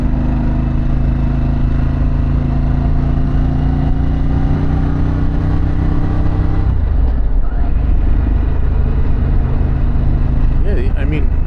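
A Harley-Davidson Pan America motorcycle fitted with a Vance exhaust runs loud and close with a steady low engine drone, then the revs drop abruptly partway through and the engine settles into a rougher, lower rumble.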